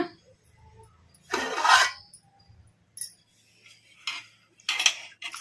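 A metal plate covering a bowl of soaked split cowpea (alasande) lentils is lifted off, giving a brief scraping rattle followed by a few sharp, close metallic clinks in an otherwise quiet kitchen.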